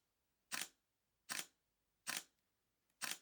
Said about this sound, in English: Let's have a listen to the shutter mechanism.